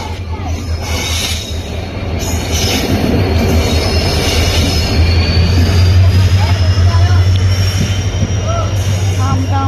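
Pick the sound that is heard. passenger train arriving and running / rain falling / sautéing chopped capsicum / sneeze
passenger train arriving and running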